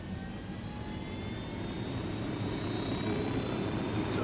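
A helicopter in Ghost Recon Wildlands drones steadily at close range, a continuous engine and rotor roar holding level throughout.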